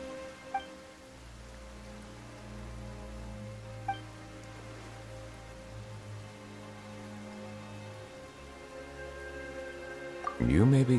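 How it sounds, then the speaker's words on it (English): Steady rain hisses throughout under sustained electronic tones and a low hum, with a few faint chimes, in the video game Genshin Impact. "Why is it raining all of a sudden?"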